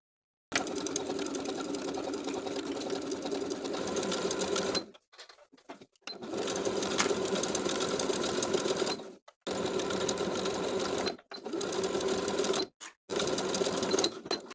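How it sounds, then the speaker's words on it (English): Sewing machine zigzag top-stitching rolled-over elastic along a one-piece swimsuit neckline, close and steady in several bursts of a few seconds each, separated by brief silent pauses. "Top stitch that rolled over elastic in place along the neckline with a zigzag stitch of a 3mm width and length"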